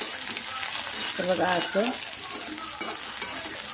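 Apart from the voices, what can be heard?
cumin and mustard seed tempering sizzling in oil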